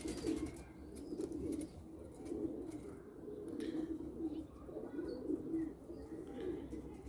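Low, soft cooing of pigeons repeats in a steady rhythm, close by, with a faint background hum.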